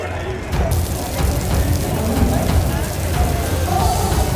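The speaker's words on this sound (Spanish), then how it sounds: "ya empezó otra vez la llovedera" Heavy rain pours down steadily over an outdoor show crowd on the night of the Grito celebration in Puerto Vallarta, a dense continuous hiss with low rumbling underneath and no clear words.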